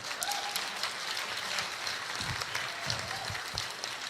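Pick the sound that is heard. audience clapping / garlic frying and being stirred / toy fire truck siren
audience clapping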